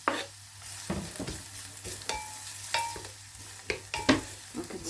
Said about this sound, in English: I am going to add my onions and my garlic to my hot oil. You can hear it is sizzling.